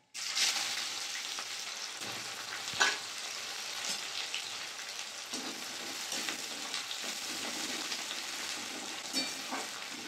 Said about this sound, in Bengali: তেজপাতা, শুকনো লঙ্কা, গোটা জিরে, কেটে রাখা পেঁয়াজগুলো দিয়ে দেবো তেলের মধ্যে।